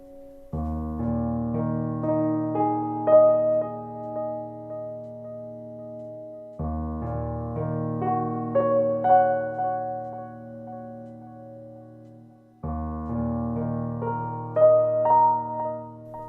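Electric guitar chords strummed in three phrases through a delay pedal, each note repeating in echoing delay trails that overlap and smear into a sustained, shimmering wash.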